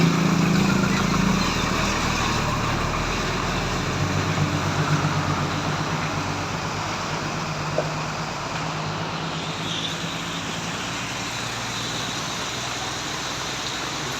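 Steady roar of heavy road traffic on a city-centre through road, with trucks, buses and large vehicles rumbling past continuously at moderate distance, a constant broadband wash without pauses.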